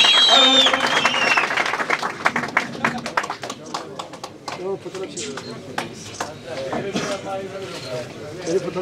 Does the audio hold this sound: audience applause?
yes